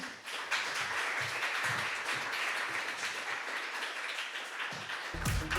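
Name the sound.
audience applause for Slovenska nota finalist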